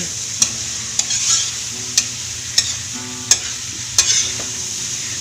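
Freshly picked bitter gourd with egg frying in a pan, a steady low sizzle broken by about eight sharp, evenly spaced scrapes or taps of a utensil stirring, close and clear.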